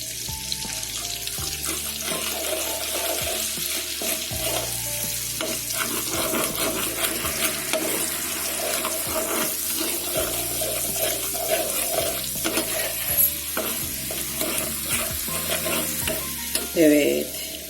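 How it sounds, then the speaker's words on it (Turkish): Red chili powder sizzles in hot oil, a dense, continuous crackle with scraping stirring strokes throughout and a brief watery trickle near the end. "Yağım biraz ısındıktan sonra içerisine kırmızı toz biber."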